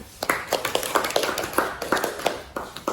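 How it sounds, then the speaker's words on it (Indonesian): Students clap for a classmate who has just presented a handmade harmonica, a quick patter of small hands, moderately close and somewhat scattered, with light background murmur. "Tepuk tangan buat teman."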